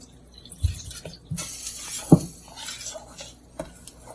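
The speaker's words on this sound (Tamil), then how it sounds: "இன்னும் கொஞ்சம் தண்ணி சேர்த்துக்கலாம்" Water is added to a thick kadhi in a pot, with scattered clinks of a utensil against the pan, stirring and a short splash of liquid, close and alone.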